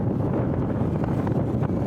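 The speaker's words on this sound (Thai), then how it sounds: "ลมแรงมากๆ เลย" Strong wind buffets an outdoor microphone in Sam Neua, Houaphanh province, Laos, a steady loud rumbling roar lasting throughout with no speech.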